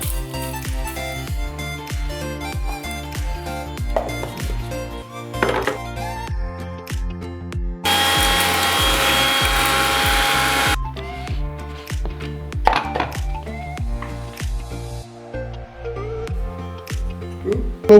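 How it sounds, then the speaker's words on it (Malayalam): Cardamom and sugar ground in a kitchen mixer grinder while making unniyappam: a loud steady whirring roar of about three seconds, set under continuous rhythmic background music. "ഏലക്ക പഞ്ചസാര ലേശം ഇട്ടിട്ട് പൊടിക്കുക"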